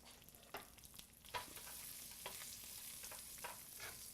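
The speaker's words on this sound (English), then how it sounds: "I've got about 2 tablespoons of oil in the bottom of the pan. Let this heat up. We're going to go in with our rice." Rice going into about two tablespoons of hot oil in a pan, a quiet continuous sizzle broken by scattered soft scrapes and stirring clicks, close and without any talking.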